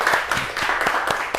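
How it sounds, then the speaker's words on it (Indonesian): Brief applause in a classroom, a handful of students clapping in a quick, uneven rhythm of sharp close claps. "Silakan tepuk tangan dulu."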